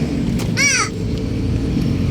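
A single harsh, crow-like caw rings out for under half a second, fairly loud and close, against a quiet background hum.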